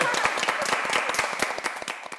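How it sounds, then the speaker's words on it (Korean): A small studio audience at a Korean early-childhood education talk show gives applause, with distinct, sharp individual claps in an uneven rhythm, close and fairly crisp, tapering near the end. "박수 한번 주시죠"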